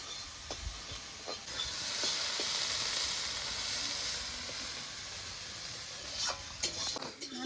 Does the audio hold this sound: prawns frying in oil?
yes